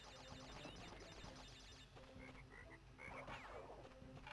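A frog croaks repeatedly in a modded Crash Bandicoot 3 level, the rapid croaks standing clear against game music and effects, faint overall, with no talking.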